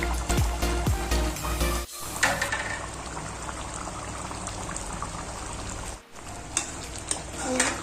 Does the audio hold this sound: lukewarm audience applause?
no